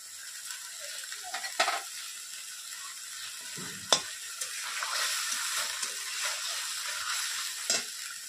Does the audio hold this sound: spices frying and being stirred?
yes